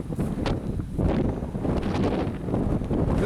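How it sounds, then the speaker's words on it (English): Wind blowing across an open hillside near Black Diamond Mines, steady rumbling gusts buffeting the microphone throughout with no speech. "Windy."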